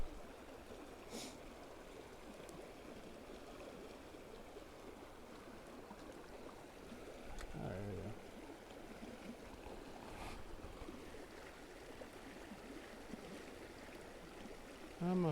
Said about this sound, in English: Water's ripping down through here pretty good